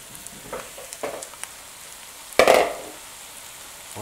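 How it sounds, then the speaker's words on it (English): Vegetables sautéing in a pan, a soft low sizzle with a few light scrapes and one louder burst of hissing partway through, close with no speech. "As you mix them around and saute these for 2 to 3 minutes or until soft"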